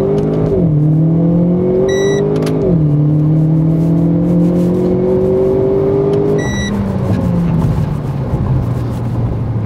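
A Renault Clio RS launches under launch control and accelerates hard, its engine note climbing loudly then dropping at each quick upshift, three shifts in steady succession, with no talk.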